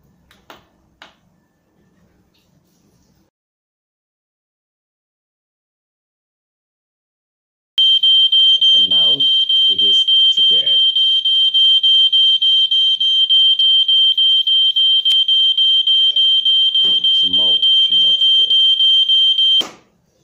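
A home security alarm tied to an Eachen RF bridge blares a piercing, steady high-pitched tone for about twelve seconds, with a person talking underneath before it cuts off abruptly.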